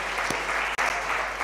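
A church congregation applauds in a steady wash of clapping that fills the room, with a brief dropout partway through.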